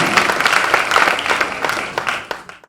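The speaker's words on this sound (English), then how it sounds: "Give that man a round of applause." Audience applause at an MLK Jr. celebration greets speaker Brian Lee, a dense burst of many hands clapping close and steady before tapering off at the end.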